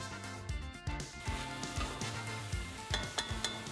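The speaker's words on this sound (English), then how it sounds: "add the mushrooms, garlic and onion to the casserole. Then fry these ingredients for 5 minutes" Mushrooms, garlic and onion fry in olive oil in a casserole, a faint sizzle under repeated close knocks and scrapes of a utensil stirring against the pot.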